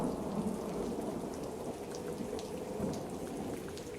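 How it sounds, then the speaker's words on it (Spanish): Steady downpour of rain with a low rumble of thunder rolling through, loud and continuous, the storm hammering on a house roof with wind behind it and no voices. "La lluvia caía en cascadas sobre el techo de mi casa, y el viento aullaba como un lobo solitario."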